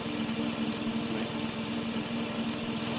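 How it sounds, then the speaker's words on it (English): A steady mechanical hum from a generator in the horror video game FingerBones, a constant low drone with a faint rattling texture, running evenly throughout with no speech. "It's like a generator, okay."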